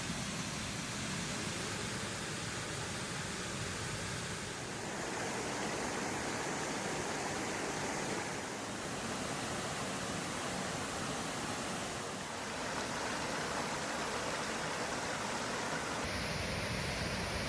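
Jantur Emporok, a quiet waterfall in Indonesia, pours in a steady, dense roar of falling water that fills the scene evenly from start to finish, with no voices.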